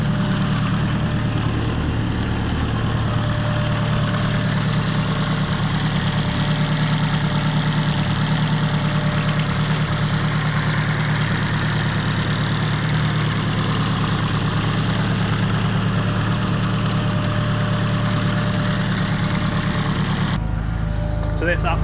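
A turbocharged K20-engined Honda Civic EK9 racecar running on E85 idles at operating temperature, a steady, loud, slightly lumpy low drone that runs unbroken almost to the end.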